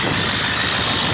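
Ford 6.4 Powerstroke diesel engine running after a fuel filter change, with an oil leak and an exhaust leak: a steady, loud, broadband rumble and clatter heard close up, with no talk.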